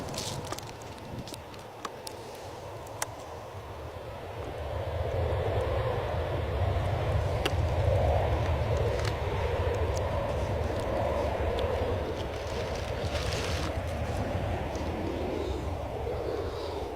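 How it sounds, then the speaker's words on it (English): An airliner takes off at Bristol Airport, its engine roar building into a broad, steady rumble that swells and holds from a moderate distance, with faint outdoor noise around. "Super quick takeoff that was."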